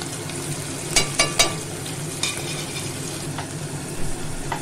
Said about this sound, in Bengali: ছানাটা খুব ভালো করে ভেজে নেব।